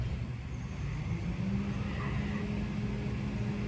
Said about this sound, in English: Sorry about the trash truck.